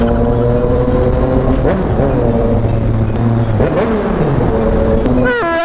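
A Yamaha Tracer 900 motorcycle engine runs loud and steady, its pitch rising and falling through several revs and gear changes, with a sharp climbing rev near the end.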